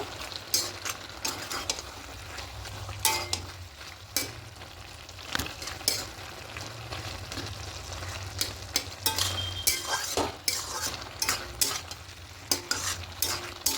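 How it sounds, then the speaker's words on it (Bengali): A spoon stirs lentil badi into a simmering bottle gourd and spinach curry in a pan, scraping and clinking in a steady rhythm over a low sizzle, close and moderately loud with no talking. "এবার বড়িগুলো দিয়ে দেবো দিয়ে খুব ভালো করে মিশিয়ে নেব"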